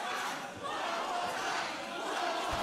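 Wrestling crowd at an I Quit match chants in a steady, roaring wall of voices that sounds large and somewhat distant, continuing evenly throughout.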